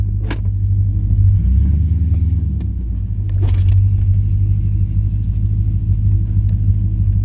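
An LS-swapped Chevrolet S10 pickup with a shake above 60 cruises along, its engine droning as a loud, steady low rumble with a slight swell partway through and no talk over it.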